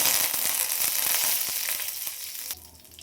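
Mustard seeds, cumin and curry leaves hit hot oil for a sprouts palya, a loud dense crackling sizzle with sharp pops that eases slightly before a sudden drop near the end.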